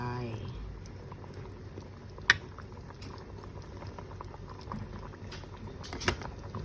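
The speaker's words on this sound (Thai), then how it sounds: "ตอนนี้น้ำกะทิของเราเริ่มเดือดแล้วนะคะ" Coconut milk curry bubbles at a boil in a pot, a soft continuous bubbling and popping close by, with a couple of sharp clicks or clinks standing out.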